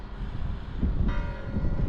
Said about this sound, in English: San Marino locked in by Italy as the church bells go off